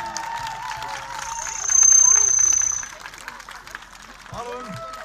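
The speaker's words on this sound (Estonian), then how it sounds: "aplaus talle" An audience applauds an instructor at Kunda Sea Day, a brief swell of clapping in the middle of the clip, rising over steady talk and crowd murmur before fading back under voices.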